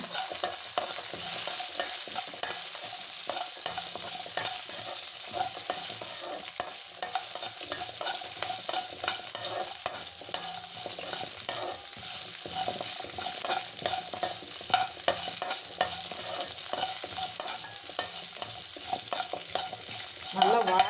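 About fifteen garlic cloves fry in oil in a pan, a steady crackling sizzle broken by frequent stirring scrapes, close and continuous with no voices.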